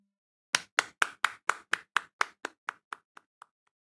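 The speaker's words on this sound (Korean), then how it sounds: "우리 하나님께 영광의 박수 돌리겠습니다." Clapping in praise at a Sunday church worship service, about fourteen sharp, evenly spaced claps in a steady rhythm that grow quieter and fade out near the end, with no talking over them.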